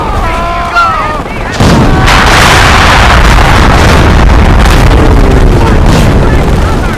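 Machine gun fire in Company of Heroes during a beach assault, a loud continuous stream of rattling gunfire and blasts, preceded by a brief shouted voice and overlapping with battle noise.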